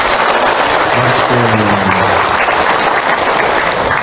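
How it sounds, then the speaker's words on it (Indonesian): An audience at an Islamic religious lecture claps steadily in warm, sustained applause, with faint voices mixed in. "Tepuk tangan buat Bunda yang bertanya."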